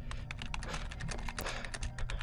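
Rapid keystrokes on a computer keyboard, a steady clatter of close, fairly loud clicks running the whole time with no voices.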